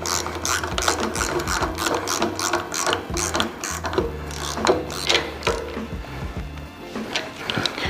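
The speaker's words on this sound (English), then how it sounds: "we'll grab a 13 mil socket and we'll snug this down" A 13 mm socket ratchet clicks steadily as it snugs a bolt down on a 40 hp VW engine, a fast, close, continuous pawl rattle running throughout with no talking.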